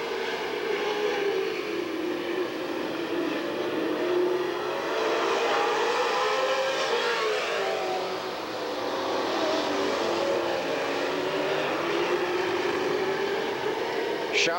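Super stock race cars racing on the oval at Redwood Empire Raceway, engines roaring and rising and falling in pitch as the pack circles, heard from some distance with continuous noise throughout.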